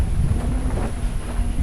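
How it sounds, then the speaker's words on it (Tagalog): Strong wind buffets the microphone outdoors at an airgun practice range, a steady low rumbling roar that fills the whole short stretch with no let-up. "Ay, grabe lakas ang hangin no."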